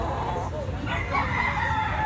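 A yellow-legged Boston bloodline bullstag gamefowl rooster crows nearby at a gamefowl market in Cebu, a single drawn-out call over steady background noise and other fowl, with faint talk in the surroundings.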